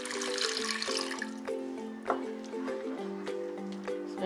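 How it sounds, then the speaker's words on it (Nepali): Water pours into a pan of spicy paneer gravy with coriander and cumin powder, making a light trickling splash with bubbly gurgles and a few sharp drips, close and moderately quiet. "अलिकति पानी राखेर"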